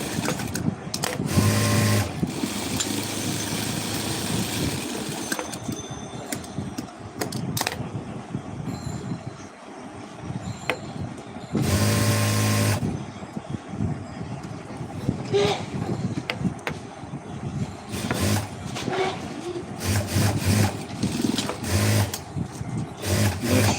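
A sewing machine stitches a white semi shirt in repeated bursts of rapid whirring and clatter, stopping and restarting several times, close and fairly loud.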